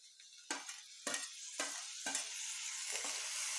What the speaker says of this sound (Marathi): टोमॅटो आपल्याला एकदम असा मऊ असा फ्राय करून घ्यायचा आहे